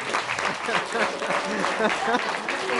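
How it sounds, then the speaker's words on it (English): Wedding guests at a toast give a round of applause and standing ovation, a steady patter of clapping lasting throughout, with voices talking loudly over it. "Offer a round of applause to Philip"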